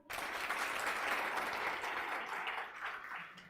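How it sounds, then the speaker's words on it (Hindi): Sustained applause from a crowd of students at a coaching class celebration, dense and steady clapping filling the whole stretch at fairly close range with no clear talk over it. "बजाओ ताली यार"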